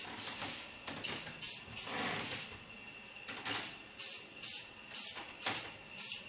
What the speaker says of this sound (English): Get into my flax hairspray.